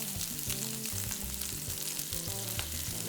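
A steak sears in hot oil in a pan with a continuous soft sizzle, quiet and steady under faint background music.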